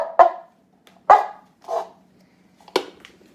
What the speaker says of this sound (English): As you drag the wet paper towel